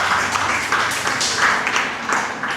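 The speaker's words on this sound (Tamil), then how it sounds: "அதற்கும் சேர்த்து உங்களுடைய உற்சாகமான கரகோஷம்" Steady audience applause at a school debate event, dense continuous clapping from a crowd, loud and even throughout with no talk over it.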